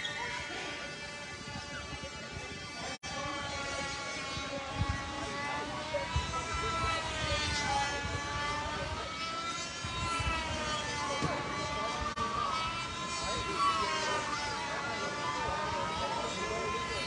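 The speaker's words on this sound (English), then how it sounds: "someone's got a little drone on the other field over there, kind of just flying it around, flying around a drone plane." A small hobby drone flown over a nearby field during a youth football game gives a steady, wavering high-pitched whine that rises and falls in pitch throughout, heard at a moderate distance over crowd and field noise.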